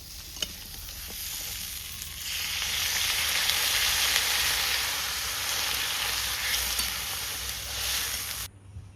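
Goat meat frying in a pan, the sizzle building after about two seconds into a steady loud crackle with stirring scrapes, then cutting off abruptly near the end.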